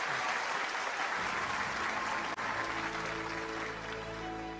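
A large rally crowd in Korea applauds after a minister's and singer's performances, a dense continuous roar of clapping heard from a distance with a faint low hum underneath.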